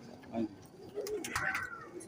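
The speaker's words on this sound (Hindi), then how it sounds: "आज आपके लिए मैं बहुत अच्छे कबूतर लेके आया हूँ। सियालकोटी कबूतर हैं और एक रामपुरी पेयर।" Sialkoti pigeons coo softly in short low phrases, fairly close, while someone talks over them.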